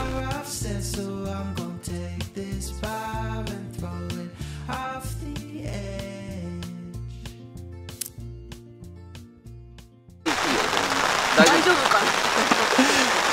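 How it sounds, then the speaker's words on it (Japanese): Heavy rain falls as a dense, loud, continuous hiss that bursts in abruptly near the end, after a long stretch of tuneful music. "雨降ってますからね"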